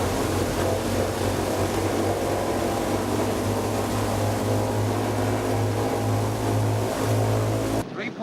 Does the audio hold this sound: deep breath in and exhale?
no